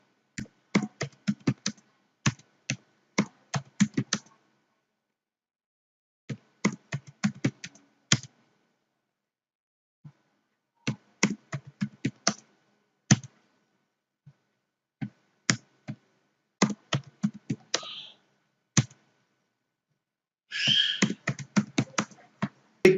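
Password typed on a computer keyboard during database software setup: bursts of close, crisp key clicks separated by silent pauses, ending in a rapid flurry of presses, with no talk.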